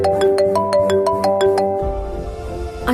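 A phone rings indoors with a melodic electronic ringtone, bright repeated tone notes over a low hum that cuts off partway, then a shift to quieter sustained tones.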